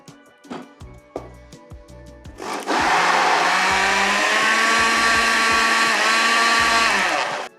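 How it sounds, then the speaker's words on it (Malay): A kitchen blender starts up loud and close after some clinking and handling sounds. It whirs steadily while mixing roti jala batter and winds down slightly at the end. "sekarang kita masukkan dalam blender pula"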